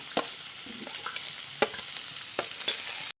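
Chopped shallots and green chilies sauté in a pan, producing a continuous close sizzle broken by several sharp spatula scrapes and stirs, before cutting off abruptly. No talking.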